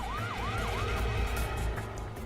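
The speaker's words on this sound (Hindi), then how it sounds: "ये सायरन की आवाज सुन रहे हो तुम दोनों?" A wailing siren rises and falls in repeated sweeps over a steady low engine rumble, fairly distant but clear.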